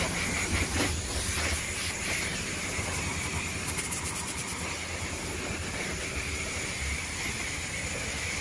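A pressure washer sprays a constant steady hiss over the engine bay of a Dodge Charger Scat Pack 392 at a car wash, running unbroken and fairly loud with no voices.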